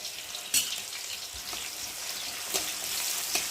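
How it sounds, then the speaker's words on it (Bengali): Onion and chopped green chillies hit hot oil in a wok, giving a steady close sizzle and frying hiss with a few sharp crackles and stirring clinks scattered through. "তেলটা গরম হয়ে গেছে, আর এখন আমি পেঁয়াজ দেব, আর দেবো এই যে কোচানো কাঁচা লঙ্কা"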